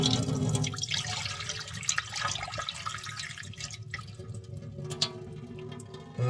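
Water pouring and trickling out of a jar of rinsed sprouted seeds, a steady close splashing drain with occasional drips and small clinks, no voices.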